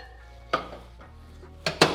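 Inverter demo discs are set down inside microwave ovens, producing a few sharp hard clinks and knocks, one alone and then two close together near the end, over a steady low hum.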